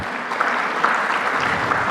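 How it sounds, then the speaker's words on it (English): A conference audience at an HR technology panel applauds a panelist, a dense, steady burst of clapping heard close and fairly loud, alone without speech. "Can we have a huge round of applause for him, please?"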